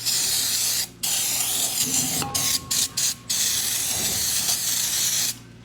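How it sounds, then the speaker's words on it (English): Degreaser sprays in short, loud hissing bursts onto a Ford Territory AWD wheel bearing housing with the bearing removed, several quick blasts broken by brief pauses and a soft mechanical click. "I'm going to get some degreaser and just"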